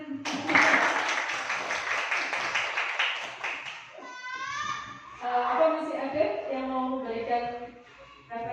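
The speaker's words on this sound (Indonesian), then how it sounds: "Diulangi, berikan aplaus yang semangat" Applause from an audience at a school positive-culture dissemination session, a burst of clapping for about four seconds, followed by voices speaking.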